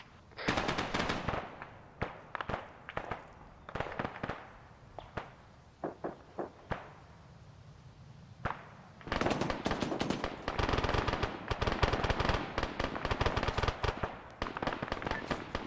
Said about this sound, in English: there is still a squad to our northwest that's shooting us